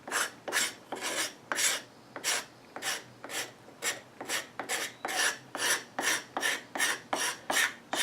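Steel scraper blade drawn repeatedly along wooden chair legs, about a dozen crisp rasping strokes in a steady rhythm, close and clear with nothing else around it.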